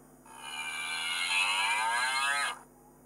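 A cow lets out a single long, steady moo, loud and close, with no other sounds around it, part of a children's farm-sounds story.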